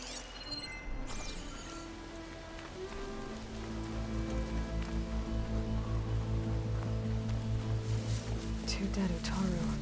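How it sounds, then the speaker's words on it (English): Rain falls steadily in the video game Horizon Forbidden West, a soft wash of drops under swelling low music, with a brief breathy voice early on. "Rain."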